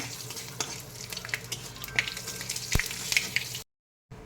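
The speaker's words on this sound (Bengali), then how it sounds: "সোমবারে দিয়েছি 5 ফোড়ন, আর দিয়েছি একটা তেজপাতা। একটু ভেজে নেব।" Five-spice seeds and a bay leaf sizzle in hot oil, a close crackling hiss with a few sharp clicks and a utensil knock, ending abruptly in silence.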